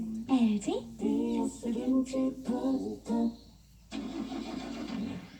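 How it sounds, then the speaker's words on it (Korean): A BMW car engine starts up with a few short tonal whirring bursts, then settles into a steady running rumble. "누군가에겐 평범한 엔진 소리"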